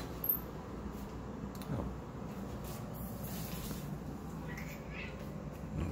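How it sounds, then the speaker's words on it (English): Cats meowing from behind a closed door, faint and muffled, a few short calls over a steady low background hum. "I think there might be cats on the other side of this door."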